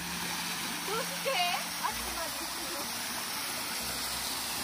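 A waterfall in Japan rushes steadily in the background while people talk and call out nearby, their voices rising briefly above the flowing water.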